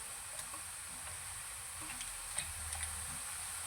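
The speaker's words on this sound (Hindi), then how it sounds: "इसको हम अच्छी तरह से मिक्स कर लेते हैं" Mutton and bitter gourds stirred together in a cooking pot, a soft, steady scraping and faint sizzle with a few small clinks of the spoon, quiet and close throughout.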